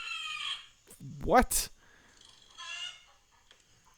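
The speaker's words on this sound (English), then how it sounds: "I have seen a squirrel make a weird rasping sound like this," A squirrel gives a weird, harsh rasping call in one short burst amid forest ambience, with people talking before and after it and a faint rooster-like crow in the background.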